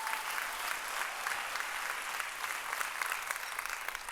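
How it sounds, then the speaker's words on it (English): A conference audience claps at a leadership accelerator session, producing a dense, even wash of applause that holds steady throughout, fairly distant and uninterrupted by talk. "you can go ahead, clap it up."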